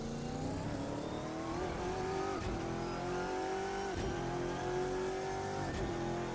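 Saleen Shadow V8 race car in the Assetto Corsa racing game, its engine revving steadily and loudly with rising pitch sweeps and short dips at each gear shift, alone without talk.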